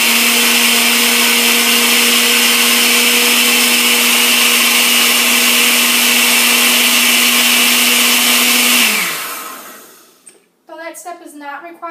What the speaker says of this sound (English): we're going to go ahead and put our blender back on high and liquefy it one more time.